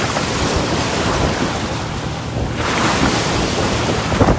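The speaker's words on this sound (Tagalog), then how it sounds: "makikita natin dito sa areang ito na napakalakas ng mga alon" Powerful ocean waves surge and crash continuously during a typhoon, with heavy wind roaring across the microphone, loud and close, at the Philippines' southern boundary near Indonesia.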